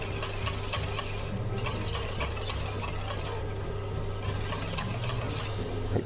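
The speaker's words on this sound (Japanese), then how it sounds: "ここでよくかき混ぜて、ダマダマがなくなってきたら生地の出来上がりです" Pancake batter of sifted flour, melted butter, a pinch of sugar and salt being whisked in a bowl, a steady, close scraping and swishing that runs on without pause.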